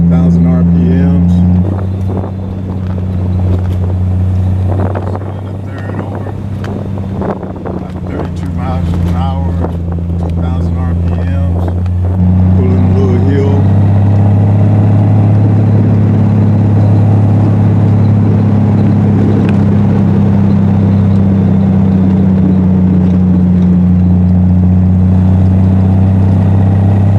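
A Triumph TR6 engine pulls steadily in third gear at about 32 mph and 2,000 rpm, a loud, low, continuous drone with wind rush and a faint shift in pitch partway through.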